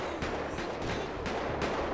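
Gunfire in GTA 5 during a SWAT team mod mission: a quick series of sharp shots, about five evenly spaced cracks over a couple of seconds, fairly close and alone with no talk.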